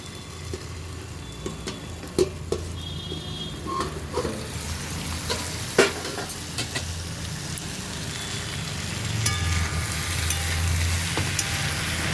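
Gathi kochu (taro) frying in a pan, giving a steady sizzle and hiss with scattered clicks and scraping stir sounds throughout; no one speaks.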